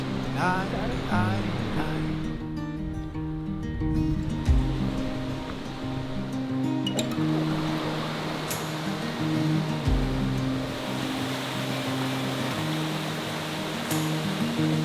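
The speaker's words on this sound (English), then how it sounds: "You can hear the waterfall." A waterfall at Plitvice Lakes in Croatia pours as a dense, steady roar of falling water, with a low tonal hum running under it and a few brief clicks and knocks.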